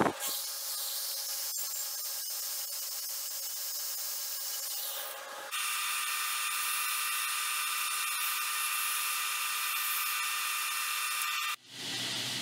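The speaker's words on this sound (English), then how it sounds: "now I'm going to cut my handle material to length" A power tool cuts handle material to length for a Civil War style D-guard Bowie knife, a loud, steady grinding whine that shifts pitch midway and runs almost unbroken, with no talking.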